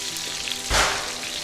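Steak frying on a burner gives a steady, quiet crackle that swells into a brief, louder hiss midway through, then settles back to a soft sizzle with no talking.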